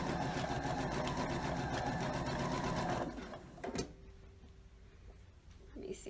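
A sewing machine stitches down the side of a memory pillow made from a shirt, whirring fast and steady up close for about three seconds, then stops, leaving faint clicks and handling sounds.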